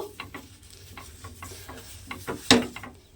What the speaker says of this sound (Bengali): এবারে আমি এতে আবারও একটু তেল দিলাম, দিয়ে খুব ভালোভাবে এটা লাগিয়ে নেব